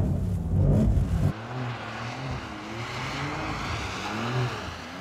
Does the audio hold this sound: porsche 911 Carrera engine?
yes